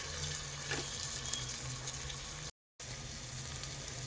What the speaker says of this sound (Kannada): ಬಟಾಣಿ, ಡಬಲ್ ಬೀನ್ಸ್ ಎಲ್ಲ ಸ್ವಲ್ಪ ಹಸಿ ವಾಸನೆ ಹೋಗೋವರೆಗೂ ಫ್ರೈ ಮಾಡ್ಕೋಬೇಕು